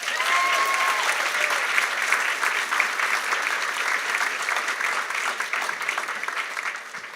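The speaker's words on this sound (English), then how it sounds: "Round of applause." Loud, sustained audience applause at a school awards ceremony, dense clapping from a large crowd filling the room steadily from start to finish, with no talking over it.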